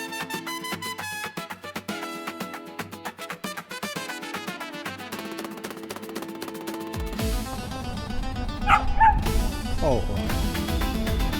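A dog barks and yips repeatedly at a pigeon on an outdoor seaside walk in Matosinhos, Portugal. The barks are fairly close and steady, with a person talking briefly and broadband street noise rising toward the end.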